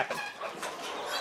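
Young chicks being moved into a chicken house cluck and chirp faintly in a brief, scattered burst of soft calls with no talking.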